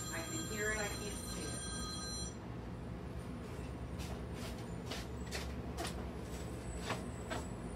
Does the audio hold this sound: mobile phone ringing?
yes